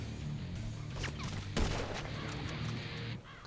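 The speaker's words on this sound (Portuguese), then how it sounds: "acho que eu tô levando dois tiros de uma vez ali" Gunfire in the online shooter game GTA V Online during a sniper fight, with sharp bursts of shots and impacts over a low steady game drone, one louder crack near the middle.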